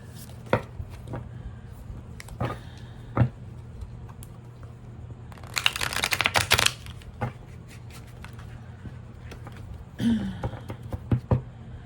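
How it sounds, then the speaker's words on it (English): Tarot cards are reshuffled by hand, sparse soft taps and clicks followed by a dense riffling burst midway and a shorter one near the end, quiet and close, with no speech. "I'm gonna reshuffle this."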